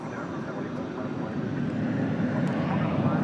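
An American Airlines Boeing 737-800 takes off at night at DFW Airport, a broad steady jet roar that builds slowly and grows louder over the few seconds, with no clear voices on top.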